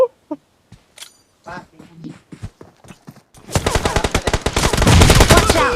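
PUBG Mobile gunfire: after a few seconds of scattered voices and small clicks, rapid automatic shots burst in and keep hammering loudly and densely to the end.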